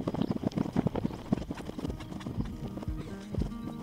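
Horses move around a yurt camp in Kyrgyzstan, with a quick, uneven run of hoof clops and thuds near at hand. Faint animal sounds mix in and nobody speaks.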